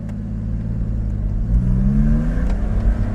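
A Porsche Boxster 986 roadster accelerates in first gear, its engine note climbing steadily in pitch, close and continuous with a rumbling low end.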